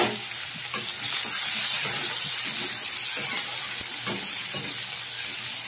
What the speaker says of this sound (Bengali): পেঁয়াজটা একটু ভেজে নেবো লাল করে।